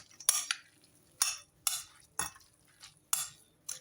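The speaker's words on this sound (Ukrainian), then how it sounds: "Поливаємо олійкою перемішуємо гарно" A spoon stirs and tosses a beetroot and apple salad dressed with olive oil in a bowl, giving six or so separate wet, scraping swishes with quiet gaps between, close up with no voices.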